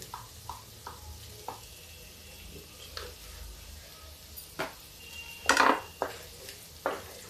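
Onion and a pinch of asafoetida frying in a pan, a soft steady sizzle with scattered utensil clinks and scrapes, a few sharper knocks near the end.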